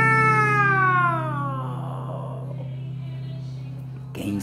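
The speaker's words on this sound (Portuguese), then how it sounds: "O gatinho que se chama Mimi, vem pra perto de mim e faz" A cat gives one long, falling meow, clear and fairly close, that fades into a quiet background, followed by a short burst of noise at the end.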